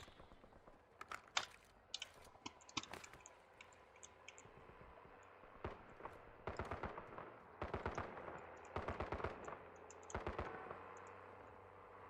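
Gunfire in the shooter game Warzone, with several rapid automatic bursts of sharp cracks spread across the clip, growing denser and louder toward the middle and end over a faint background.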